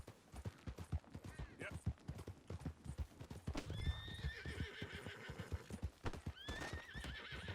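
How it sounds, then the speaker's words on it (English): A horse in the video game Red Dead Redemption 2 trots with steady, clear clip-clop hoofbeats, letting out two whinnies partway through over faint background game sound. "Just get on the horse here and leave those guys alone."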